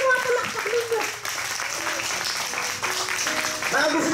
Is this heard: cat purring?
no